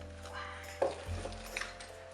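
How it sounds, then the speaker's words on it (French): A spoon stirs a hot candy mixture in a pot just after very hot water has been poured in, making short scraping and clinking sounds over a low background hum, with a brief sharp knock partway through. "Et on mélange."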